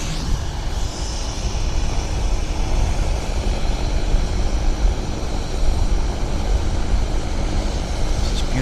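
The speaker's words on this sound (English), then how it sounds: "Beautiful Boeing heading to San Francisco." A Boeing airliner passing at Vancouver Airport, a steady broad roar of jet engines held at a constant loudness throughout, distant rather than overhead, with no talk.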